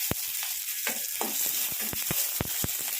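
Onions sizzle in hot oil with popped mustard seeds for ragi upma: a steady close hiss broken by sharp clicks and spatters as the pan is stirred, with no one talking.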